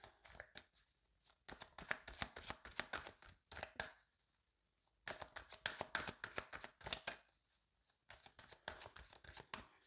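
A deck of tarot cards is cut and shuffled by hand, with bursts of rapid riffling flutters separated by brief quiet pauses, close and fairly soft with no talking.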